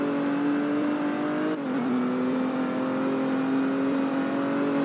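Camaro engine in the video game Liberty County, a steady loud drone with a slight pitch drop midway as the car runs on, continuous and alone with no talk.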